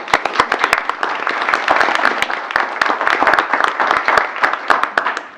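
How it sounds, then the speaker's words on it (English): Applause breaks out at a city council meeting for a local bath and body shop, with sharp, distinct individual claps from a modest audience in a room, steady and close throughout. "Rents, Bath and Body deserves a big round of applause"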